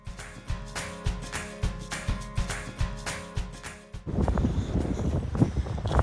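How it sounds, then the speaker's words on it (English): Wind at DR Byen in Copenhagen. Regular ticking pulses with a tonal backdrop fill the first few seconds, then a loud, rough gust buffets the microphone with broad, rumbling noise until the end. "Pretty windy today at Byen"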